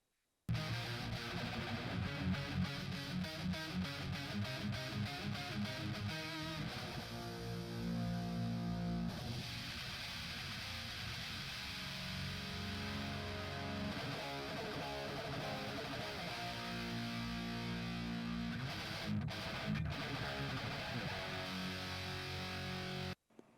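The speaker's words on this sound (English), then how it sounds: "It sounds like it adds some grid, some harmonic distortion, and sounds cool." Music run through the TDR VOS Slick EQ plugin, with added harmonic distortion giving a gritty, saturated edge. It plays continuously at steady loudness, with rhythmic passages early on and sustained tones later, then stops abruptly at the end.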